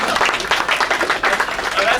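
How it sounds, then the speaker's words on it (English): An audience at an event claps in a brief scattered round, with a voice talking over the applause throughout. "Now, that's one you really shouldn't have clapped for."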